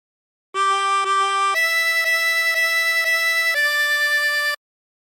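A 16-hole tremolo harmonica plays a phrase of The Yellow Rose of Texas: a steady run of sustained, reedy wavering notes that step to a higher pitch midway, clear and alone with no talking.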